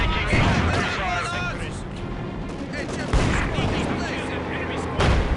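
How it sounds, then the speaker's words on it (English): Gunfire and artillery from the Company of Heroes video game: booming shell blasts and rattling rifle fire overlap with radio-style voice lines, with fresh heavy impacts near the middle and the end. "We are taking infantry fire."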